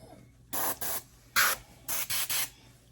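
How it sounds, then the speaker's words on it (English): An airbrush sprays paint onto a UFO model kit in short hissing bursts, five or six quick sprays with pauses between, close and fairly quiet. "open this paint up and grab an airbrush"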